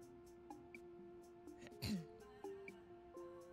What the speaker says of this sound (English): Sorry, just clearing my throat.